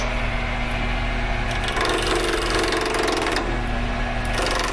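A wood lathe turns a duck call blank while a gouge cuts it: a continuous loud motor hum and whine, with a rougher, denser cutting noise rising through the middle stretch and again near the end.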